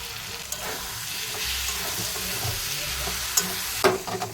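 Ground spice paste and previously fried potatoes sizzling and being stirred in a pan for a dried fish curry, a steady close frying hiss with occasional scraping knocks of the spoon.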